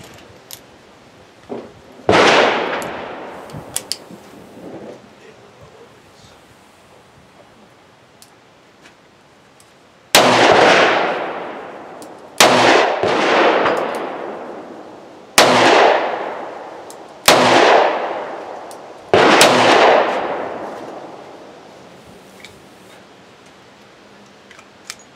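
Six sharp, loud gunshots from a Ruger SP101 five-shot .357 Magnum revolver firing 158-grain jacketed bullets, an isolated first shot followed after a pause by a quicker run of cracks, each with a ringing decay.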